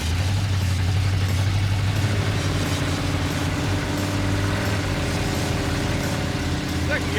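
A junkyard Chevy Tri-Five's engine runs steadily and loudly throughout, a continuous rumbling drone with a constant low hum.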